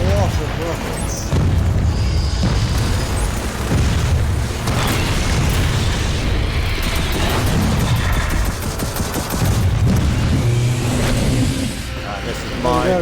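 Rocket explosions in Gears of War 4 as a large enemy takes repeated hits, heavy booms and bursts of gunfire layered under continuous loud battle noise with voices talking over it.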